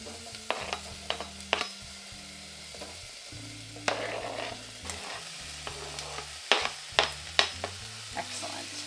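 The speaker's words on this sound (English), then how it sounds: "we're ready to put our peppers into our pot. You can hear that already start to sizzle up." Peppers sizzle in a hot pot for pasta sauce, a steady soft frying hiss with repeated sharp clacks of a spoon stirring against the pot, close and fairly quiet.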